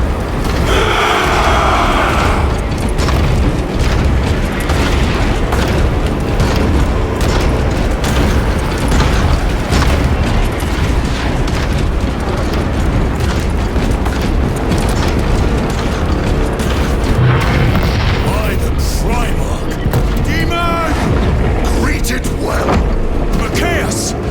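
Gunfire and explosions rage in Warhammer 40,000: Space Marine II, a dense and unbroken loud barrage of booms, rattling shots and mechanical clanks, with voices shouting through the din.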